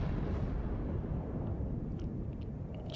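Yamato battleship's heavy guns firing at a Cleveland cruiser in a naval video game, a dense, booming low rumble of the volley rolling on for several seconds.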